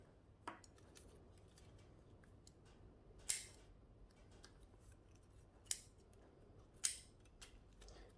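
Pruning shears snip back young, fast growth on a large carved olive bonsai, making four or five sharp, crisp clicks spaced a second or more apart against a quiet background.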